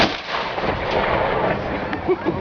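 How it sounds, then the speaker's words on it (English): A cannon salute fired at a fort: the blast's heavy, booming rumble fills the whole span, loud and close, then trails off with a faint echo, without speech. "And there you have a cannon salute to welcome you here to the fort this afternoon."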